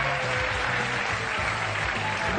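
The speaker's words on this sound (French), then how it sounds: "on applaudit Daniel, mesdames et messieurs" A TV studio audience applauds a volunteer with steady, dense clapping, while music or a voice hums faintly underneath.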